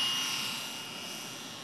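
A small propeller plane's engine held at full throttle, a steady droning roar heard from inside the aircraft that eases slightly in loudness over the brief stretch, with no talking.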